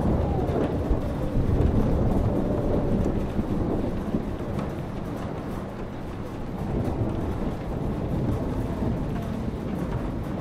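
A thunderstorm in the video game Life is Strange Remastered, a steady, loud roar of rain and wind with low rumbling thunder swelling and fading throughout, no voices.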